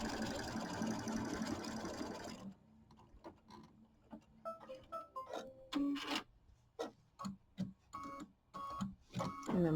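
An embroidery machine stitches the batting placement line for a mini quilt, starting with a dense steady whir and then changing to quieter, irregular stitching pulses with small mechanical clicks, close by and with no talk.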